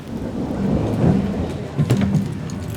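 Rain falls steadily outside during a thunderstorm, with low rolling thunder swelling twice beneath the constant patter of the downpour.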